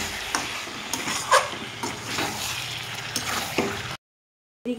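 Mutton sizzles while being stir-fried in a pan for Bengali mutton kosha, a continuous close crackle with occasional spoon scrapes and clicks, cutting to silence near the end before a brief return.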